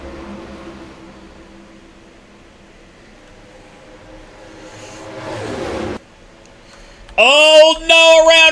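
Race car engines in the NASCAR Racing 2003 video game at Charlotte Motor Speedway for the Cabarrus County 150: a steady droning hum rising into a loud, high whining rev near the end.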